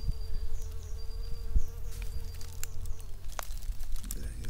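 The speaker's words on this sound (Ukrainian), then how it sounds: "там бджілка, тут бджілка. Дуже гарно відвідують." Bees buzz around spring corydalis flowers outdoors, a close, fluttering hum with individual insects drifting near and away, over a quiet background of light rustles.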